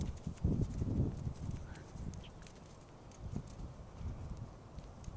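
Horse walking in a dressage training session, hooves thudding softly in a steady, muffled rhythm on arena footing, moderately close and fairly faint throughout.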